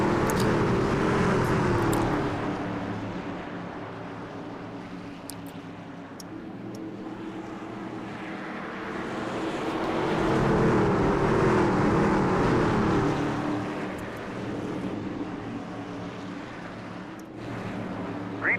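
Race trucks in the SRU Gomez Truck Series at Phoenix roar off on the green flag, a dense, sustained engine drone that swells into a louder surge mid-way before easing.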